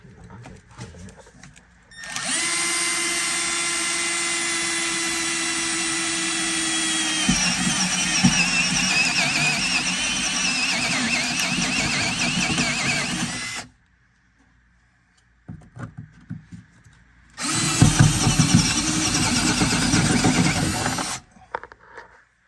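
A power drill drilling into car floor pan metal whines loudly in a long sustained burst, pauses briefly, then runs again for a few seconds, close to the listener.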